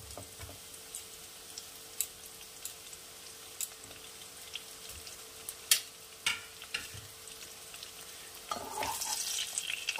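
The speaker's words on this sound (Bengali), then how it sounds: "এই যে ফুলকপিগুলো কোট করে রেখেছিলাম ভেজে নেব" Spice-coated cauliflower florets frying in a small wok (kadai), a faint, thin sizzle with scattered ticks and clicks from stirring, and a brief louder hiss near the end; no voices.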